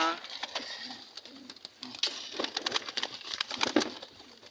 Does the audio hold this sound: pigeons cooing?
yes